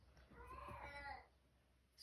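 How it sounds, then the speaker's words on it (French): A pet cat meows nearby in a home craft workspace, a single drawn-out, fairly faint call with no talk over it. "Excusez-moi pour mon chat à côté qui m'appelle."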